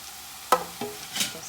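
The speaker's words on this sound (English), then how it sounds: "we're just gonna stir occasionally until all the apples are nice and soft" Chopped apples stirred in melted butter in a pan, a soft sizzle broken by three quick scraping stirs of a utensil in just over a second, close and without voices.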